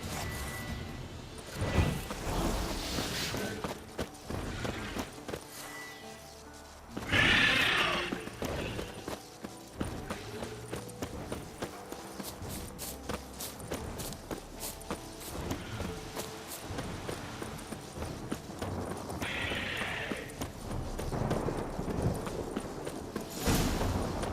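Horse neighs and hoof clip-clop from Witcher 3, with whooshing game effects; bursts of whinnying stand out around a few moments amid steady hoofbeats and ambient action noise.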